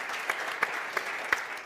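Short burst of audience applause at an industry panel event on climate and multi-day tours, steady dense clapping with a few louder individual claps standing out.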